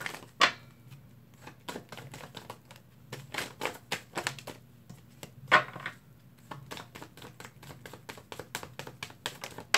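Tarot cards shuffled close up in a rapid, irregular patter of crisp snaps and flicks, with a couple of sharper slaps, fairly loud and with no voice.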